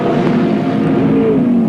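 Engine of a touring race car at the 1983 Australian Grand Prix touring car race at Calder, a steady loud drone with a sustained note that holds throughout, with no speech.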